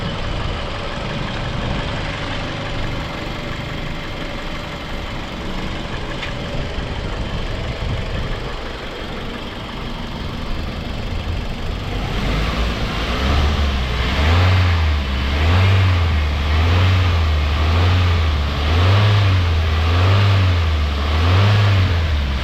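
Toyota Altis engine running, with engine vibration and overheating trouble, a steady idle that turns into a rhythmic low pulsing throb partway through, close and fairly loud.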